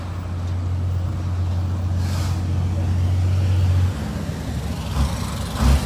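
Road traffic rumbles steadily at the Lekki Toll Plaza in Lagos during a protest, with a continuous low engine drone that cuts off partway through, followed by looser, fainter vehicle noise and passing sounds.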